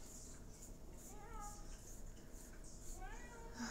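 Two short rising cat meows stand out against a steady background hum, the second a little stronger than the first.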